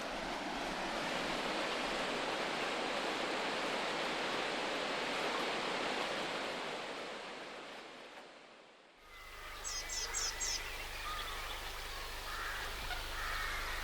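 River Ouse flowing near a boat, a loud, steady rushing wash of water for most of the stretch that fades away, followed by quieter ambience with brief bird chirps.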